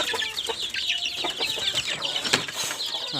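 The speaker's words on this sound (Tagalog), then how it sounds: "At ito yung mga reject natin sisiw." Many chicks cheep in a dense, overlapping chorus of high, thin peeps, fairly close and steady throughout, with a few louder chirps standing out.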